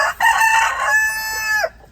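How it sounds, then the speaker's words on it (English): A rooster crows once near barred rock hens, loud and close, a long drawn-out cock-a-doodle-doo that cuts off sharply near the end. "there's 3 hens. 3 barred rock hens"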